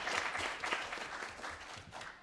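Conference crowd clapping for a discussion panel, a dense, even spread of hand claps at moderate volume, continuing without talk over it.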